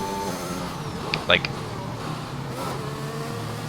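An Aston Martin safety car in a racing video game drones with a steady engine hum throughout, moderately loud, with a brief chirping sound in the middle.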